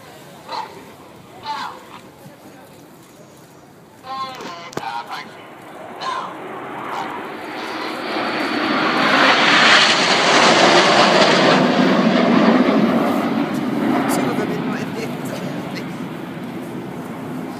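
A formation of RAF Red Arrows Hawk jets roars overhead at an air display at Silverstone, the broadband jet noise swelling from faint to loud and holding steady, with brief crowd chatter and a dog barking before it.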